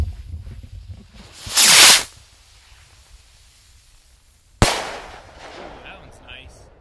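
An Atlantis firework rocket launches outdoors at night, with a loud rushing whoosh as it lifts off, a long quiet gap, then a sharp bang followed by crackling and faint fizzing.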